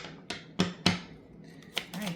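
Tarot cards are shuffled by hand in a few sharp, separate slaps and riffles, close and fairly crisp, with short pauses between the bursts.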